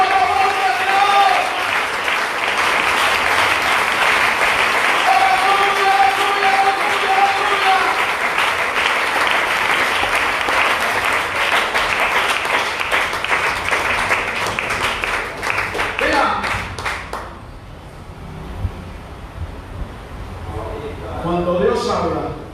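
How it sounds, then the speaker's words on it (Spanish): A church congregation breaks into loud, sustained applause and clapping, with cheering voices mixed in, before the sound drops away and a voice speaks near the end. "El aplauso a la voz de Dios."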